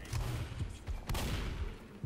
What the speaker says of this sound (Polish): 21 minuta, słychać strzały.